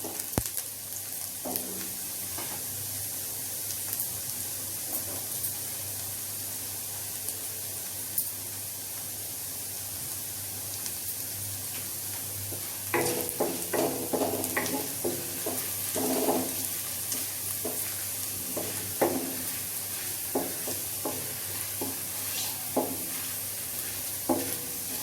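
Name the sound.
frying chopped ginger and garlic with fenugreek for khichdi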